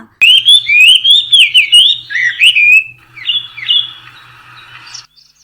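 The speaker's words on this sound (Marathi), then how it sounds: "सकाळच्या वेळी घरातील परसबागेमध्ये पक्ष्यांच्या मंजूळ गुंजनाने येणारी जाग सकाळ कशी प्रसन्न करून सोडते" A bird in a home backyard garden in the morning gives loud, close, warbling whistles and squawks in a quick run, then a few softer calls before falling silent.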